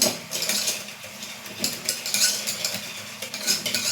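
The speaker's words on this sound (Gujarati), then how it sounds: "બસ સારી રીતે વિસ્કરથી હલાવીએ" A whisk stirs soaked dal in a pot for dhaba-style dal palak, giving a steady run of light scraping and clinking strokes close by, with no talking.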